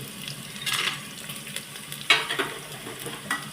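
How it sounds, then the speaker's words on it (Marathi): Garlic and peanuts fry in hot oil in a pan on medium flame, a soft continuous sizzle broken by occasional scraping stirs and light clinks of the utensil against the pan, heard up close without speech. "लसूण असा गोल्डन होत आला की लगेच आपण त्याच्यात शेंगदाणे घालायचे"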